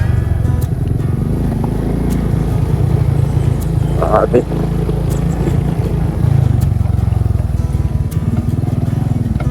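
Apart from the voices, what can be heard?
tricycle motorcycle engine passing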